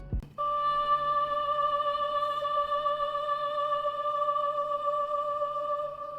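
A sustained, dark tonal vocal-like pad enters after a brief hit and holds steadily with faint wavering, moderately quiet and alone.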